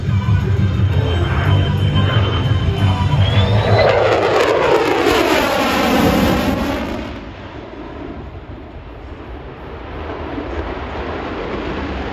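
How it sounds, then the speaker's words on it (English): An F-35 Lightning II fighter jet passes at an air show with its afterburner lit, a loud roaring, crackling blast that sweeps down in pitch as it goes by, then fades to a distant rumble. "When he reaches show center, the afterburner will be on."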